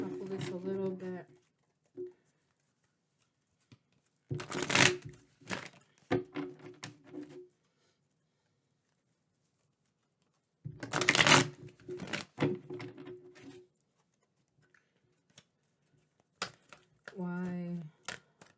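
Bursts of crisp tarot card shuffling, riffling and snapping in several separate rounds, with a person talking between them.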